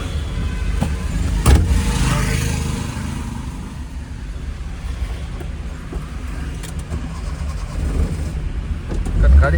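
A Maruti 800 car engine runs with a rough, steady droning rumble close by, a brief louder burst near the start, and a person talking over it.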